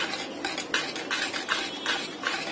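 Chocolate pound cake batter being beaten by hand with a whisk in a bowl, a steady run of rapid metallic scraping strokes with light clinks, close and continuous, no talking.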